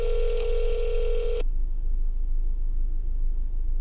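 A telephone ringback tone sounds on an unanswered call to a property owner, a steady electronic tone that cuts off partway through, then a quiet line hiss, no talking.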